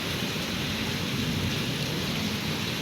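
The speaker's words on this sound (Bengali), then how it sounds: "দেখছো মেঘের কি গর্জন আর ছাদের উপরে সব গাছগুলি মনে হয় পড়ে গেছে" Heavy night rain pours steadily over a rooftop during a thunderstorm, with a low rumble of thunder rolling beneath the dense, continuous hiss, with no voices.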